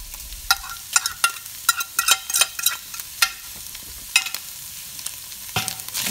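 Onion and grated ginger sautéing in a pan, a steady soft sizzle broken by repeated sharp scrapes and clinks of a utensil stirring against the metal, with no one talking.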